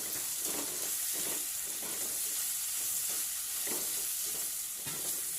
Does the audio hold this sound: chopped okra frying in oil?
yes